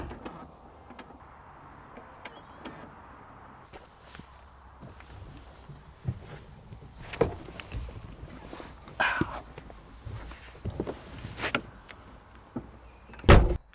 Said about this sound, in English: so you press that and the door will open